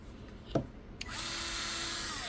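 Electric screwdriver for PC building, switched on at its second speed: a click, then a steady high-pitched motor whine that holds constant, near and loud, with no talk.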